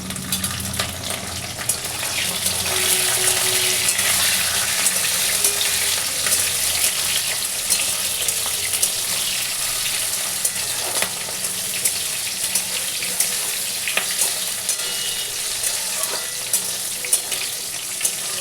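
Onion and tomato frying in oil for a goat curry, a loud, dense, continuous sizzle with faint stirring scrapes running throughout, close and without talk.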